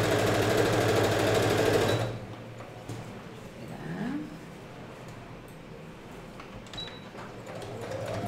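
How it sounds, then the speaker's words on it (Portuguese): A sewing machine runs a seam around a baby's daycare bag, loud and steady for about two seconds before stopping, leaving a quiet room with faint handling noises. "Agora eu vou passar uma costura em toda a volta aqui, tá? Um pé de máquina."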